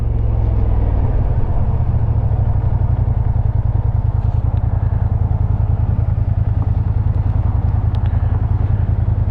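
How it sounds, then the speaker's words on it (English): Kymco AK 550 scooter pulling up in a hard, fast stop, its engine a loud, steady low rumble throughout with faint clatter on top and no voices. "I had to brake pretty hard to come to a stop."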